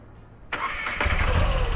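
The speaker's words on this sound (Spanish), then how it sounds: "vamos a hacer la prueba, vamos a arrancar la moto" A Moto Guzzi V85 TT 2021 motorcycle with a transverse V-twin engine starts up: a brief starter whir, then the engine catches and settles into a steady, loud, close idle.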